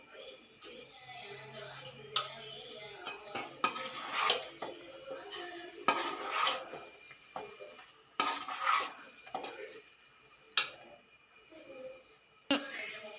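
Veg noodles with sauce being stirred in a pan, with repeated close scraping and tossing strokes against the metal, clinks and a light sizzle in an uneven rhythm.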